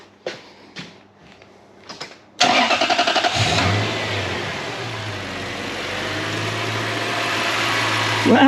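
Toyota 3UZ-FE V8 engine in a Lexus LS430, just repaired for bearing whine, cranks and fires after a few knocks, revs briefly, then settles into a steady, loud, close idle with no one talking.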